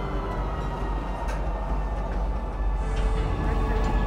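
A train ride through Loreville in the game Star Citizen carries a steady low rumble of the moving carriage with a faint, even mechanical hum, rising slightly toward the end, without voices.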